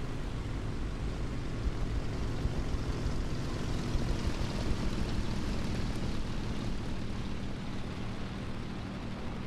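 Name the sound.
propeller aircraft engine in War Thunder video game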